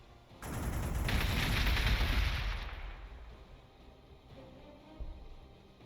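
A city in Warhammer 40,000: Gladius fires on orcs: a loud, dense volley of rapid gunfire bursts that holds for a couple of seconds, then fades into a lower rumbling tail.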